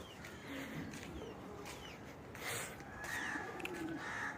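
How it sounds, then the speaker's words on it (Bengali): Pigeons in a pigeon loft giving soft, low coos close by, repeated calls over a quiet rustling background. "এই যে আমার কবুতরের লফট"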